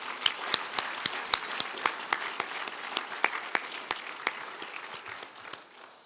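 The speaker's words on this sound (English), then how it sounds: "And I think they deserve that applause for them succeeding in a most" A graduation ceremony audience breaks into sustained applause for the graduating students, with dense clapping and a few sharper, louder claps standing out before it gradually thins toward the end.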